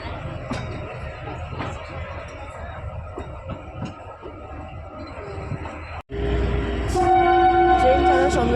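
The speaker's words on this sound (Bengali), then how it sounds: "ট্রেন আমাদের ছেড়ে দিয়েছে কালকা স্টেশন থেকে। এখন আমরা রওনা দিলাম সিমলার উদ্দেশ্যে।" The Shivalik Express pulls out of Kalka station bound for Shimla, a steady rumble of wheels and carriages rolling beneath, then a louder, brighter stretch with a sustained tonal whistle or horn near the end.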